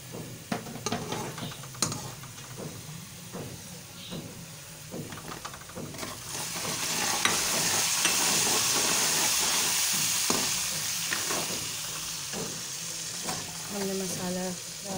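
Masala of turmeric, salt and ground red chilli frying in a pan for chana dal, with scattered stirring clatters at first, then swelling into a loud steady hiss and sizzle.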